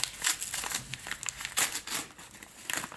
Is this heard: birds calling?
no